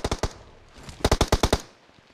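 Automatic gunfire in the video game PUBG: a few quick shots, a pause, then a tight burst of about six loud rounds that fades into a short tail.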